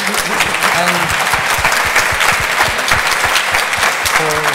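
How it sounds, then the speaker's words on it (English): A conference audience at a typography panel discussion applauds the panelists, a loud, sustained wash of many hands clapping with a few murmuring voices and tonal sounds mixed underneath. "Please, round of applause for our panelists in the discussion."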